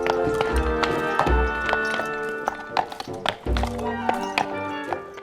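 Small Icelandic horses clip-clop in an uneven rhythm of sharp hoof knocks, close and fairly loud, over faint background ambience.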